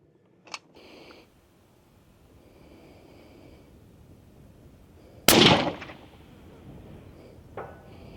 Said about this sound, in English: This gun just can't miss, Garrett.